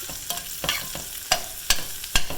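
Garlic, green peppers and onions cooking in a pan, a steady close sizzle broken by several sharp scraping stirs at an uneven rhythm.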